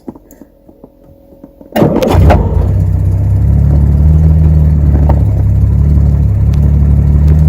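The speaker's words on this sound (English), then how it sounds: "Listen to that engine." A Jaguar Mk VII engine cranks and catches with a sharp roar, then settles into a loud, steady rumbling idle close by.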